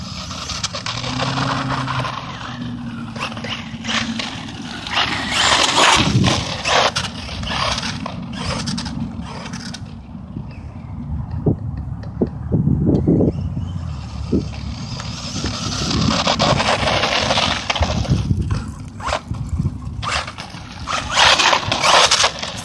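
An Integy i10T two-wheel-drive RC monster truck on a 3S battery runs at full throttle, its electric motor whining loudly and steadily with gravelly scraping and surging bursts of speed, no talk.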